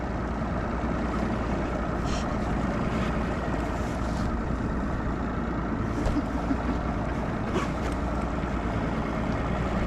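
Continuous drone of bass boat engines running nearby as boats launch at the start of a bass fishing tournament, steady and unbroken throughout, with no talking.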